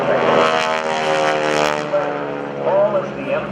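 GEICO Skytypers propeller planes drone overhead with a loud, steady multi-engine hum that swells and shifts in pitch, while a voice talks over it throughout.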